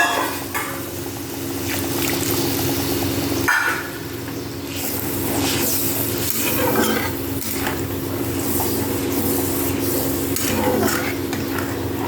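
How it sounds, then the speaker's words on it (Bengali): Coconut paste fries in a pan for a prawn malai curry, giving a steady close sizzle while a utensil scrapes and stirs through it, with occasional louder clatters against the pan. "এরপরে নারকেলের পেস্টটা একটু কষিয়ে নিয়ে"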